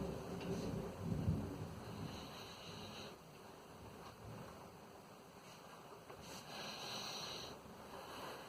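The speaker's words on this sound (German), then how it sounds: "Der Regen wird wieder stärker." Thunderstorm with falling rain, a low rumble of thunder early on over a steady wash of rainfall that swells again later, heard alone at a distance.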